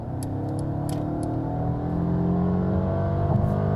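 A 2020 Mercedes GLA 250 petrol four-cylinder engine hums and rises steadily as it accelerates from 65 to 100, heard from inside the cabin, with a few faint clicks and no talking.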